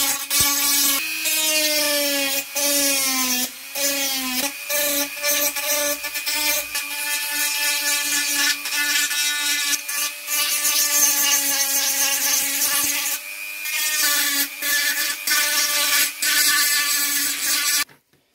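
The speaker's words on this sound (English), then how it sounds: "we're going to swap to a different Dremel bit" A Dremel rotary tool grinds wood with a high, steady whine that rises and dips as the bit bites and eases off, loud and close, running almost continuously with short pauses and no talking.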